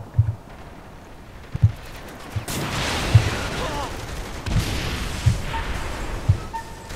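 An upgraded annihilator rocket launcher in the open-world game Saints Row: The Third fires repeatedly, sharp thuddy booms recurring about every second and a half over a dense wash of explosions and chaotic game noise.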